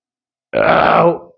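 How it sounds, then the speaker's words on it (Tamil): A person lets out a single loud, drawn-out burp lasting about a second, close up and alone after a short silence, fading at the end. "ஏப்பம் வந்துருச்சு திருப்பி"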